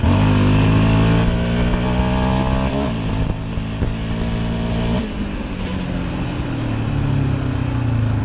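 A loud 2022 Raptor ATV engine revs hard in a no-clutch roll-on through first, second and third gears, the drone rising, dropping briefly at each shift, then pulling up again, steady and close throughout.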